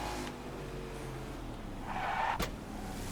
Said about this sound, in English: Everybody's braking. Extremely hard braking.